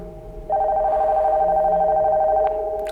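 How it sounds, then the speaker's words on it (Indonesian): Telephone in the Nocturnal Visit game rings with a sustained electronic tone lasting about two seconds, clear and fairly loud, fading slightly after. "ada suara telepon, guys."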